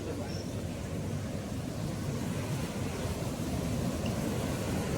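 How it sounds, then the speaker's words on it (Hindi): Steady, broad rushing of a waterfall near Pokhara, Nepal roars continuously nearby, a dense unbroken wash of noise. "मेरे ख्याल से आप आवाज़ सुन पा रहे हो पानी का"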